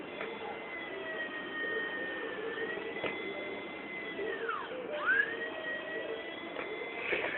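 A small electric motor of an RC helicopter whines steadily at a high pitch, briefly dipping and rising again midway, with a constant buzzing hum underneath.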